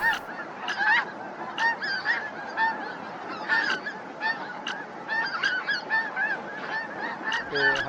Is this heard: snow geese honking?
yes